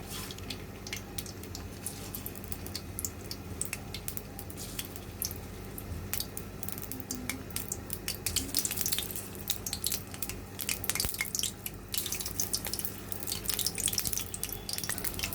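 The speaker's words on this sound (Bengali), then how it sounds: "এখন আমরা তেলে ভেজে নিব।" Tulumba jilapi sizzling in hot oil in a wok, a quiet steady bubbling crackle with tiny pops that grow busier toward the end.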